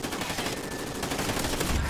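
Suppressed MTAR rifles fire in Call of Duty Ghosts, a steady stream of muffled, rapid shots running continuously at moderate loudness over busy game ambience.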